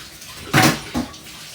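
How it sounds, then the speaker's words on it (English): Spring onion and seasoning are rinsed under a running kitchen tap, two short splashing gushes of water, the first louder and longer, close by with no talking. "what I'm gonna do is just wash off the seasoning"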